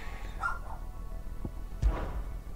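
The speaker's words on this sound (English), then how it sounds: "Sorry for my dog's barking." A real dog barking in the room during a Final Fantasy 16 playthrough, two or three short muffled woofs and yips, fairly faint and somewhat distant, with no talking over them.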